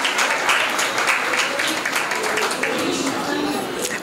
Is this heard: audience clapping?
yes